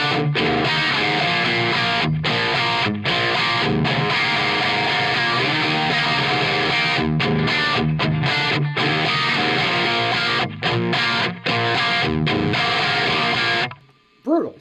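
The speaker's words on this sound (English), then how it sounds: "switch over to the hot channel of an amp like the Jet Black and just hammer it" Heavily distorted electric guitar hammered through the hot channel of a Jet Black amp, a dense, loud, continuous riff with short choppy breaks that cuts off near the end.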